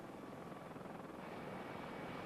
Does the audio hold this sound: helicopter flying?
yes